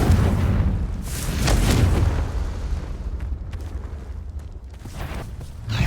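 Casting Confringo in Hogwarts Legacy sets off a fiery blast: a loud burst peaks early, then a rolling, crackling rumble trails away and flares again briefly at the end.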